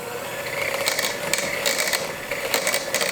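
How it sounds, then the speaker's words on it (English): An electric kitchen mixer whirs steadily at moderate volume while making a creamy glaze for maple glazed tofu, its motor hum broken by rhythmic scraping bursts, with no voices. "then we'll get our handy dandy mixer going here"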